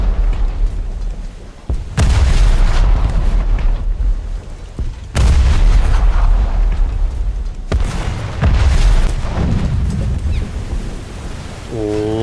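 Naval guns aboard British frigates in a naval combat game fire in loud, heavy booming blasts, several big reports spaced a few seconds apart with rumbling tails, ending in a brief rising tone.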